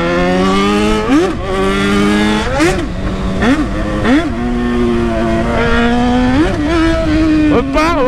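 A Yamaha XJ6 motorcycle revs hard while riding downhill, its engine note climbing and dropping in repeated loud surges over several gear changes, close to the rider.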